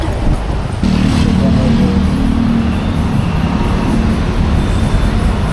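Motorcycles idle and rumble on a city street, a steady close engine drone with traffic noise all around, while people talk nearby.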